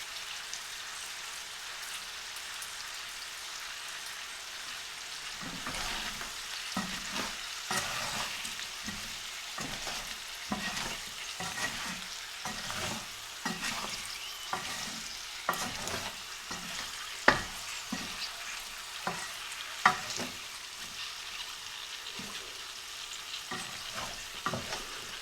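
Cumin seeds, about three-quarters of a teaspoon, sizzling and popping in hot oil while potatoes cook for an Indian side dish, a steady crackling fry with repeated stirring scrapes, close and alone.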